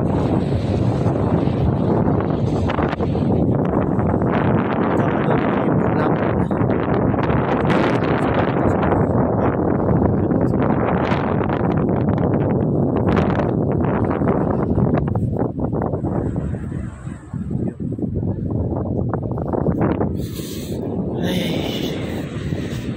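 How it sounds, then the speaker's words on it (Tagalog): Strong, steady sea breeze from the shore roars across the microphone for the whole stretch, a continuous broadband rush with gusty swells and no voices. "Tanggap tag presko nga hangin mga kadongski gikan sa baybayon"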